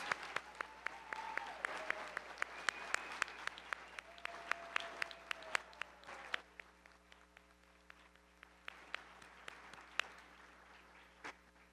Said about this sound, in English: Can we give an additional round of applause for all of these scholars?